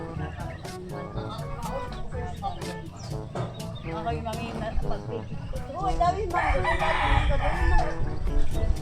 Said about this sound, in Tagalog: Tinuto ka ng manok.